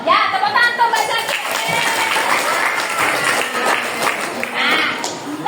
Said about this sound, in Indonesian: Ya, tepuk tangan untuk Mbak Zakia.